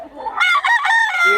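A rooster kept at a Bocaue fighting-cock farm lets out one loud, close crow, rising then holding a long strained note.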